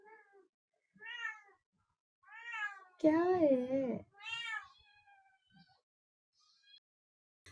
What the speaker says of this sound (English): The bad kitty.